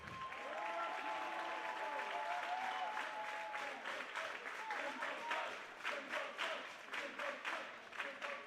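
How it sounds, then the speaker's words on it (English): Applause from a crowd at a men's college volleyball senior recognition fills a gym, faint and distant, steady at first and then thinning into scattered claps as an announcer's voice carries over it. "Let's have a big round of applause for Jimbo."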